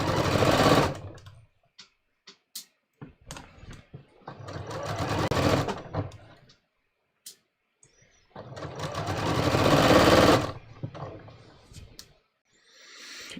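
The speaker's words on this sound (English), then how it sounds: "I'm literally just going to sew right down this line that I drew, taking the pins out as I come to them" A sewing machine stitches along a marked line on waistband fabric, running in three long bursts separated by short pauses, with small handling clicks between them, close and fairly loud.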